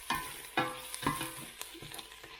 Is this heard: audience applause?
no